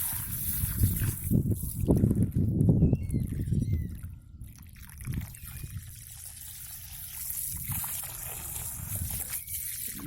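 Water poured and sloshing into concrete block channels of ecological bricks to wet them before concreting, an irregular outdoor trickle and splash that swells loudest early, then thins to a quieter dribble.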